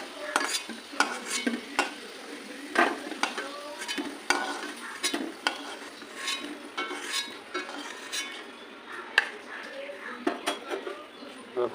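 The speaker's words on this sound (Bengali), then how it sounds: "আলুটাকে একটু ভেজে নেবো।" Potatoes fry in a pan for a cauliflower curry, with repeated close scrapes and metallic clinks of stirring over a soft, constant sizzle.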